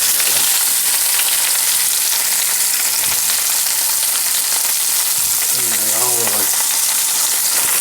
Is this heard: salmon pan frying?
yes